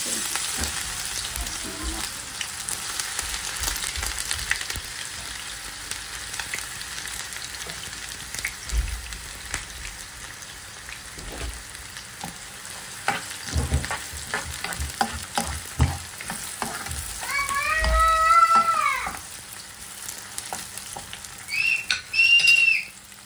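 Onion frying in hot oil for mixed vegetables, a continuous close sizzle with scattered stirring clatters and a louder burst of spattering toward the end.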